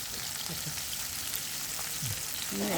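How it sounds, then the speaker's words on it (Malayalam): Steady, close sizzling of food frying in a pan for Kerala thiyyal curry, a constant crackling hiss with faint clinks of a utensil. "അതവിടെ വറക്കട്ടെ ആ അത് വറുത്ത് വരട്ടെ"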